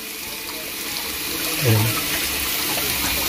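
A household tap gushes under strong pressure, a steady loud rush of water filling the whole stretch with a brief surge partway through, while a voice speaks briefly over it.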